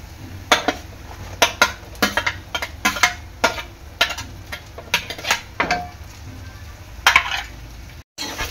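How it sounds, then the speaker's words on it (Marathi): Onion is tipped into a pan and cooked, with a spoon clattering and scraping against the metal in quick irregular strikes over a soft steady sizzle, close and fairly loud. "ह्यामध्ये टाकणार आहे मी कांदा"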